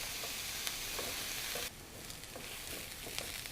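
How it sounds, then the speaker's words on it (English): Onions and garlic sauteing over medium-high heat give a steady close sizzle with occasional stirring scrapes, easing slightly partway through. "now the onions and garlic are going to saute on medium-high for about 2 minutes."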